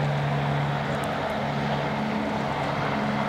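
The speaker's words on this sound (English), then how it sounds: "A helicopter overhead." Helicopter flying overhead during a tennis match, a steady, continuous engine and rotor drone with a low tonal hum that holds at the same loudness throughout.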